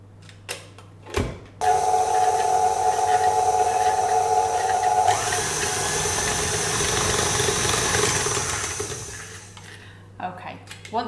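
Stand mixer whirring steadily as it beats vegan chocolate orange cookie dough, a close motor hum with a tonal whine that shifts midway, preceded and followed by light knocks and clatter.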